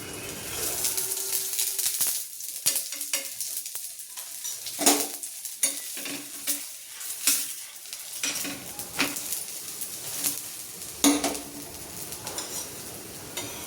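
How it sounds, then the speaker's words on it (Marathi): A potato paratha roasting on a pan over low gas, soft steady sizzling with scraping and clinking of a spatula against the pan in irregular bursts, fairly faint and close. "आता आपण याला भाजून घेऊ छान। थोडं मस्त बारीक गॅसवर 5 मिनिटं"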